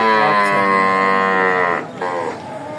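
A heifer at a busy cattle market lets out a long, loud, close bellowing moo that fades briefly near the end before a softer call follows, with no talk over it.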